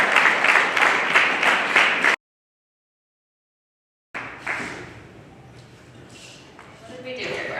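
Applause from a comedy club crowd for comedian Brian Lee, a dense burst of clapping that cuts off abruptly, then after a silent gap a voice talks over scattered crowd noise and lighter claps.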